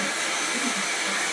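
A household vacuum cleaner (hoover) runs close by with a steady, loud airy whine and broad rushing noise, unbroken throughout the short stretch and with no voices over it.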